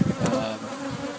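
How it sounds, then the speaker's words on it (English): Agitated honeybees at a commercial pollination site in Florida buzz in a thick, close drone around bee suits, the hum wavering as individual bees pass near. "Bees have gotten a little punchy with all the work we've done with them"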